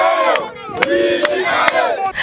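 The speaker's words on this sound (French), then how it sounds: "une foule immense en liesse est venue l'accueillir, scandant de chants" A huge jubilant crowd in Bolobo, Mai-Ndombe welcomes a parliamentary deputy with loud cheering and rhythmic chanting, voices rising in repeated waves with sharp shouts breaking through.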